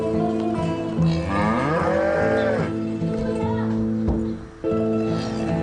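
A mother dairy cow in the Russian countryside moos loudly and close by, one long drawn-out call with a rising and falling tone over a steady rumbling background, then a brief dip and the din resumes.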